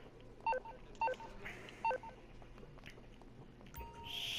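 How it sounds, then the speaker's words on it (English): Telephone keypad tones, three short beeps spaced about half a second apart, fairly clear over faint room noise, with a rising hiss near the end. "I'm just on the phone with Drew."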